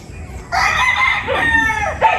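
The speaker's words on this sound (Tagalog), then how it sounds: "Ang daming manok." A rooster crows loudly and close by on a farm, with hens clucking around it in a short burst.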